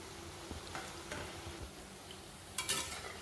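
Pakoras bob in hot oil as they are stirred and turned, giving a steady low sizzle broken by a few scraping touches of the spatula and a brighter clatter near the end, with no voices.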